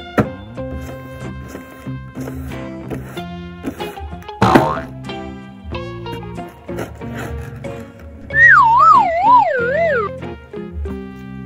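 A wailing, swooping Siren Head cry from a Skibidi Toilet guessing game rises loud near the end over busy electronic music and a sharp boing-like hit.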